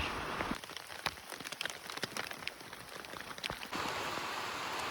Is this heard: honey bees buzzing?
no